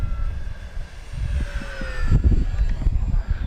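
An FMS P-51 Mustang RC model airplane flies overhead, its electric motor whining with pitch shifting as it passes, steady and fairly loud against outdoor wind rumble.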